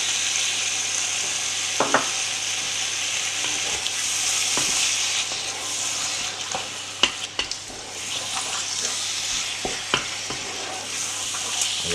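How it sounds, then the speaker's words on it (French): A sausage and banana-flower (babafigue) curry simmering in a pot over low heat after a little water is added, a continuous hissing sizzle with occasional sharp clinks and scrapes of a spoon stirring, no voices. "On va bien mélanger et notre cuisson va continuer à se faire tranquillement à feu doux."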